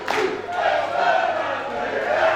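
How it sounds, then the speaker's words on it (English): Packed wrestling crowd in Carlisle cheering loudly, a sustained roar of many voices with a sharp whistle at the start and shouting swelling through. "Listen to this crowd."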